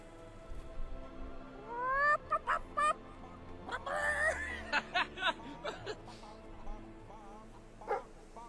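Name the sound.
chickens clucking and singing in the video game Fable 3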